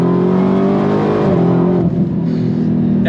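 A Dodge Challenger Demon with a TorqueFlite 8-speed automatic accelerates hard at full throttle, its engine roaring loud and close from inside the car, and the note drops briefly as it shifts up.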